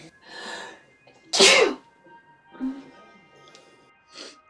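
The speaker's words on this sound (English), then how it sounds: "have you ever sneezed with a choker on?" A single sharp, loud sneeze bursts out near the mic, with quieter breathy vocal sounds before and after it.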